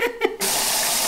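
A milk mixture for a tres leches gelatina cake pours over the set gelatin in a steady, loud, unbroken rushing stream, following a brief stretch of quieter sloshing.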